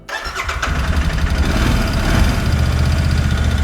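A Royal Enfield Interceptor 650 motorcycle cranks briefly, then fires up and settles into a steady, close, throbbing idle that continues evenly to the end.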